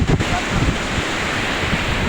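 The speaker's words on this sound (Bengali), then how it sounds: "ওই এই দেখেন কত পানি নদীতে।" A rain-swollen river rushes past in a steady, loud broadband roar, close and continuous, with wind buffeting the microphone and no speech.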